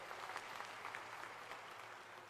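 A crowd claps at a political rally in Dhanaura: dense, continuous applause with fine crackling texture, distant and fairly quiet, steady for the whole stretch.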